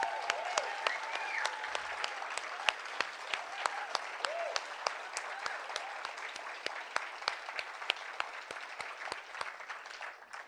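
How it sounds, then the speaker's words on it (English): A symposium audience claps, a broad, steady roar of many hands with sharp individual claps popping out, lasting about ten seconds before it slowly thins. A few cheers or voices drift faintly underneath. "Let's give him one more round of applause."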